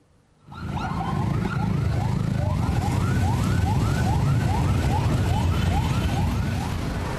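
A traffic enforcement vehicle's wailing siren starts abruptly and repeats in steady up-and-down sweeps, loud and close, over a low rumble of traffic noise.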